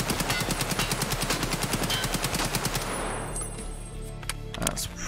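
AK-104 rifle firing full auto in the video game Escape From Tarkov, a loud rapid burst of evenly spaced shots lasting about three seconds, then echoing tail and a few faint mechanical clicks.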